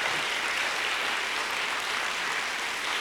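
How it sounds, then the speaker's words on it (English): An audience at a school staff in-service day gives new managers a steady round of applause, dense sustained clapping from a room full of people for a few seconds. "if you'd give me a big round of applause for all of our new managers"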